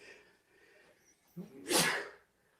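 A quick intake of breath followed by one loud, explosive sneeze close by, then silence.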